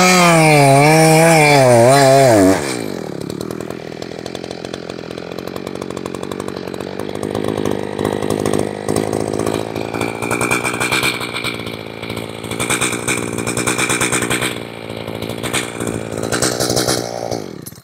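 A chainsaw is cutting into a hollow dead tree beside a ditch while land is cleared for a deer food plot. It revs loud and high at first, then drops to a lower, rougher, strained drone as it bogs down in the cut.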